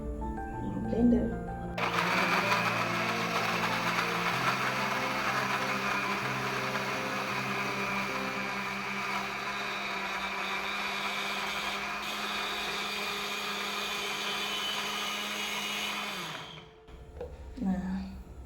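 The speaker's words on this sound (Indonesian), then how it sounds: "Blender." An electric kitchen blender whirs loudly and steadily for about fifteen seconds, grinding a small mixture with water for an orchid spray, then cuts off abruptly, with brief handling noises before and after.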